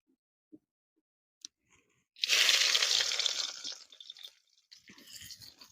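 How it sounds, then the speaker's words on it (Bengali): Chopped onion dropped into hot oil already tempered with bay leaf and black cumin for a ridge gourd and prawn bharta: a sudden loud sizzle bursts up and crackles for about two seconds, then settles into a softer, steady frying hiss. "দিয়ে দিচ্ছি কেটে রাখা পেঁয়াজ।"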